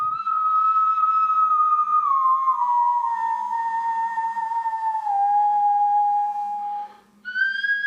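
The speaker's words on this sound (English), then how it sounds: "What you're hearing is a replica of the Divje Babe flute." A replica of the Divje Babe bone flute, the prehistoric flute found in a Slovenian cave, plays a sustained breathy melody that glides slowly downward, then jumps up to a higher note at the end. It is clear, close, and unaccompanied.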